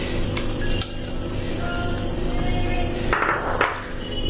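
Sliced onion drops into garlic-ginger paste frying in a pan for a fish masala curry, giving a steady loud sizzle and hiss throughout, with a couple of brief metallic clinks from utensils.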